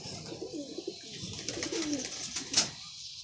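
Domestic Madrasi pigeons coo softly at a loft, a few low throaty rolls close by, with a sharp brief clatter near the end and no talk.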